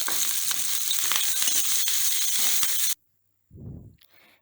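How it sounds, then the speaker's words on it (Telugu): Garlic and curry leaves frying in a pan for curry leaf powder: a loud, steady crackling sizzle for about three seconds, then silence and a short dull knock near the end. "ఇప్పుడు మనం కరివేపాకు కూడా వేసుకుని వేయించుకోవాలి."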